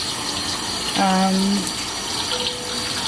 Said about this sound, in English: Again, I use just hot tap water and check it with my wrist